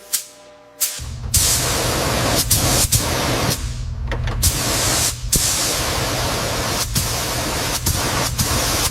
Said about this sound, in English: we're laying down the first coat of primer on the boiler patch now